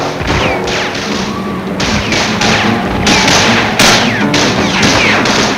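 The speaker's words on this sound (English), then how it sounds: "again there was gunfire." Gunfire during the 1944 liberation of Paris, as a parade reaches Notre Dame, comes as repeated sharp, loud cracks and thuds over a dense, continuous background of crowd and street noise.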